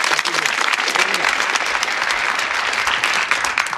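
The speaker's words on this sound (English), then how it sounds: "Give him a nice round of applause" Studio audience at a darts game show applauds a charity thrower, a dense, loud and continuous wash of clapping from many hands that holds steady throughout.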